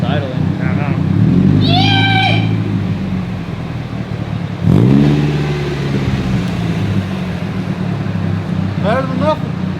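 A Nissan 240SX with a modified, non-turbo exhaust idles nearby with a steady low rumble, a brief rev swelling near the middle, while people talk over it throughout.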